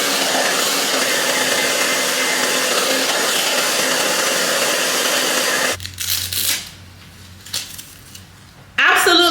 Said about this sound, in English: And I'm gonna take my Babyliss blow dryer on high heat and just blow dry it straight.